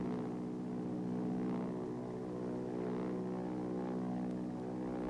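A T-28 propeller trainer aircraft flies low on a ground-attack practice run. Its engine and propeller make a steady, droning hum that holds evenly for several seconds, with no other sounds.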